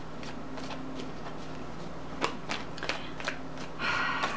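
Tarot cards are shuffled close by in soft, irregular riffles and flicks, quiet and alone.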